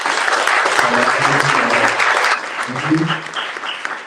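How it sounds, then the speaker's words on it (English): A crowd at a Dasara celebration at the Edison Center applauds loudly and steadily throughout, with a voice speaking briefly over the clapping. "Let us give a round of applause."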